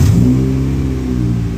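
Suzuki FX car engine revving loudly and steadily up close, a continuous mid-pitched roar with strong low rumble, with no talking.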